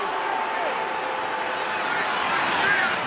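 A stadium crowd at a rugby league match between Melbourne Storm and Parramatta Eels in 2018 sends up a steady, broad roar of protest, heard under a commentator's voice.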